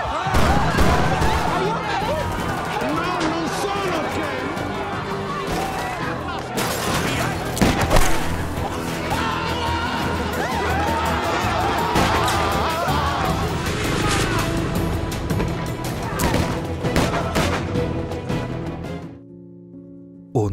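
Gunfire breaks out in a film scene, dense volleys of shots and crashes rolling almost continuously for about twenty seconds amid a loud, busy soundtrack before cutting off abruptly.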